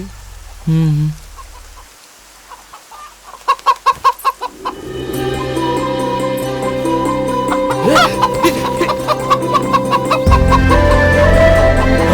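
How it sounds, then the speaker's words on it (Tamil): Chickens clucking and squawking nearby, with a burst of rapid flapping and scuffling, steady background noise throughout. "இந்த கோழிய இப்படி பிடிக்கணும், இல்லனா நம்ம கையில இருந்து பறந்துரும்."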